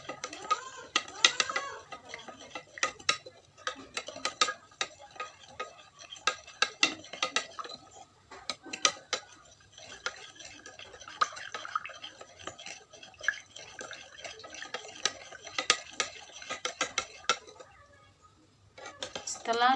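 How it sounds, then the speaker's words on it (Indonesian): A spoon stirs salt into hot water in a glass during a solubility experiment, with repeated clinks and scrapes against the glass in an irregular rhythm, fairly close and clear, with no talk over it. "dan mengaduk sampai garamnya terlarut."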